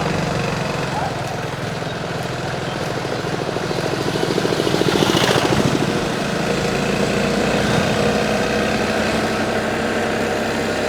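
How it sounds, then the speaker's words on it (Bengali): A gearless TVS XL 100 moped engine hums steadily with a buzzing vibration throughout, rising slightly midway, as a voice talks over it. "গিয়ার ছাড়া বাইক, ওই জন্য একটু ভাইব্রেশন আছে"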